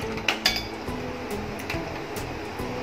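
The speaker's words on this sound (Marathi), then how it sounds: "गॅस चालू करते, कढई ठेवली" A metal kadhai set down on a gas stove gives a few sharp clinks and knocks in the first half-second, followed by quieter scraping and light metallic taps against a low steady hum.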